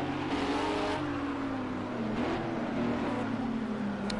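A race car engine in the Project CARS 2 racing game drones steadily and close, its pitch rising and falling as it revs through corners, with no talk over it.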